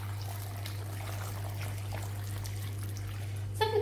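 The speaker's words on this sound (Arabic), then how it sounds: "غادي نضيف دابا كونسونطري ديال الفريز قياس 4 المعالق، ثم غادي نضيف الماء" Water pours into strawberry juice concentrate, a soft steady trickle heard close up over a constant low hum, ending with a brief clink.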